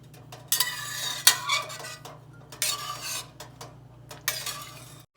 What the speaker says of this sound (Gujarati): હવે ગેસ ફૂલ કરી દેવાનો ફાઈ ઉપર અને બધું સરસ રીતે મિક્સ કરીને હલાવીશું